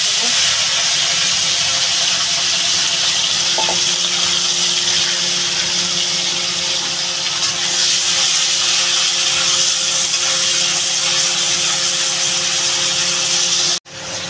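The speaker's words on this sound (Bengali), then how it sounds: "এই চিংড়ি মাছটা এবার নুন হলুদ মাখিয়ে ভেজে নেব" Prawns coated in salt and turmeric fry in hot oil, giving a loud, unbroken hiss and sizzle that holds steady for a long stretch, then cuts off abruptly with a brief knock near the end.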